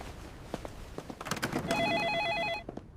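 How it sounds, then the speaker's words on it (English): Telephone in a hotel room ringing with a warbling electronic trill for about a second, fairly close and clear, after some footsteps and room shuffling. "Wait, is that the phone?"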